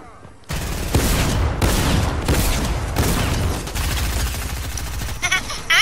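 A drum gun firing in Fortnite: long, loud, rapid bursts of automatic gunfire rattling almost without pause, with brief gaps between volleys and a voice coming in near the end.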